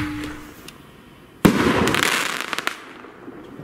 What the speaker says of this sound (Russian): Вот это очень мощно бахает этот шар.